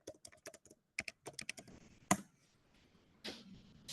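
Keys on a computer keyboard tap in quick irregular clusters, close and crisp, ending with a sharp key strike and a softer rustle.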